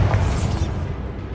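A Bombarda blast spell in Hogwarts Legacy goes off as a short, loud booming burst with a bright crackle that fades within about a second, leaving a rumbling low tail.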